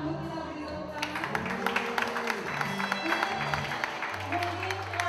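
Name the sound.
audience applause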